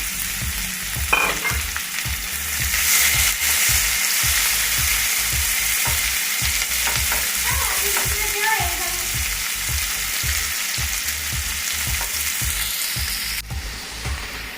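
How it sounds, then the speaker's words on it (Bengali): Onions frying in hot oil until crisp for a katla fish kalia: a close, continuous loud sizzle with regular soft stirring scrapes through it, no talk. "তেলে কিছুটা পেঁয়াজ বেরেস্তা করে নেব"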